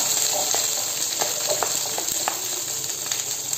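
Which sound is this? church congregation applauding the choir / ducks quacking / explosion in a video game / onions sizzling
onions sizzling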